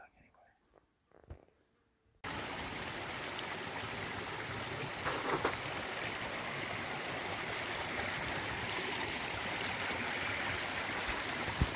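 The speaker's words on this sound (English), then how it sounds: "This is the creek heads." A creek at its headwaters in New Zealand bush flows with a loud, steady rush that starts abruptly after a short quiet stretch, close and continuous.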